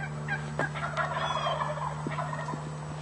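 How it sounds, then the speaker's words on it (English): Wild turkey toms gobbling before sunup near the roost, several rapid rattling gobbles at moderate distance over a steady low hum, with other faint bird calls scattered around. "The toms start gobbling before sunup, just before they fly off the roost."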